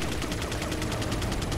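Rapid gunfire in the video game Resident Evil 4, a steady stream of evenly spaced shots at an even level, sounding like automatic fire with no pause across the short stretch.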